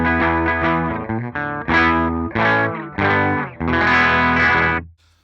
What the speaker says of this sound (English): This is the Line6 default Pod Go preset.